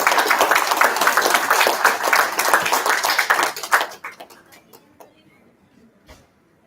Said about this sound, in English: Please give Lauren a lovely round of applause to welcome her with her opening remarks.